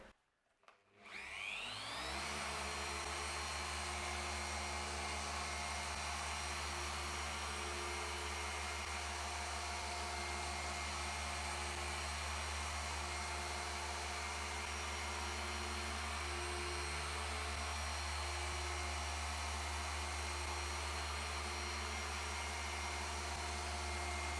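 A car paint polisher working heavy cut compound on a damaged Mercedes spins up after a brief quiet start, then holds a loud, constant motor whine and whir for the rest of the time.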